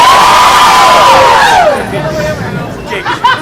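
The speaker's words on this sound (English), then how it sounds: "Why are you people cheering for children in handcuffs" A crowd at a staged pirate auction cheers and shouts loudly, with a voice bending high over the roar before it dies down into scattered calls and chatter.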